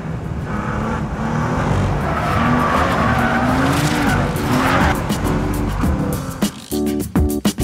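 A Nissan Juke-R, a short-wheelbase high-riding crossover, drives hard with a loud roaring engine and sustained squealing tires through a long skid, ending in sharp clattering bursts as the car settles.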